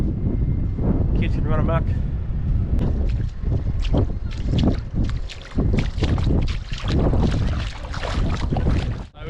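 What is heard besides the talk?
strong wind on camera microphone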